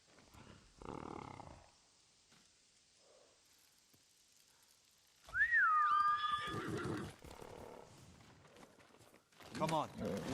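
Horse whinnies sharply in Ghost of Tsushima, a single rising-falling neigh standing out amid game sounds, with voices talking around it.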